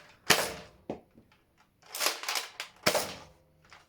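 A cheap toy automatic gun fires caps in a few sharp, loud cracks, one near the start, a weaker pop, then a burst of rapid bangs and another single crack, with short gaps between.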